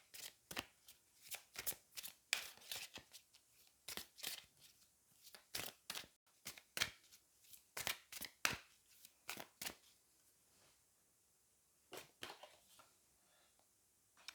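Chakra oracle cards are shuffled in repeated quick bursts of riffling and flicking, close and crisp, with short pauses between rounds and a quiet gap near the end.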